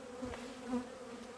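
Honey bees buzz at an apiary during feeding, a steady close hum with a few louder swells as insects pass near.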